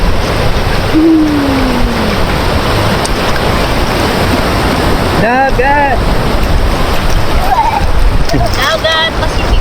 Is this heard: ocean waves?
yes